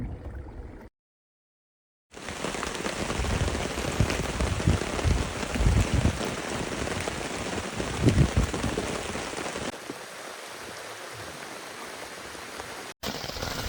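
Heavy rain pours down on a campsite in Mae Puem National Park, Thailand, drumming hard and steadily on nearby surfaces after a brief moment of silence near the start.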